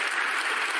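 Crowd at an Ireland 2018 snooker match between Ronnie O'Sullivan and Soheil Vahedi applauding, a dense, steady burst of clapping heard close and evenly throughout.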